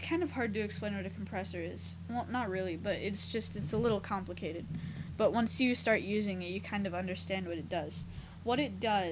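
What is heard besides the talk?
None of the usual background noises is heard.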